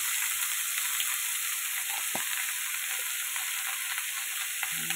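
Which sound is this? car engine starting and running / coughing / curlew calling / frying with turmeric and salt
frying with turmeric and salt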